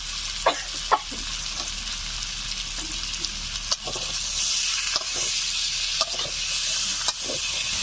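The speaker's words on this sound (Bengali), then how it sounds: "সব মশলা দিয়ে আমি 3-4 মিনিট মতো নেড়ে চেড়ে নিয়েছি" Spices for a village-style rohu fish curry fry in a pan under a constant hiss of sizzling oil, with scattered sharp scrapes and taps of the spoon as they are stirred, no talking.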